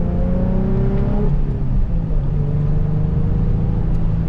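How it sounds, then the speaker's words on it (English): Nissan 350Z roadster driving with its soft top closed, a steady engine drone and rising, shifting whine filling the cabin with constant road and wind noise. "And you do hear some wind noise from the soft top."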